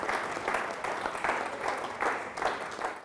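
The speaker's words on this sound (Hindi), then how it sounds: "तालियां।" Steady crowd applause fills the clip, dense clapping from many hands rolling on without a break.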